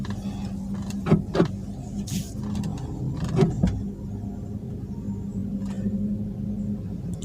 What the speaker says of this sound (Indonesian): selanjutnya kita putar setir ke kanan mentok. Setelah itu ke kiri juga mentok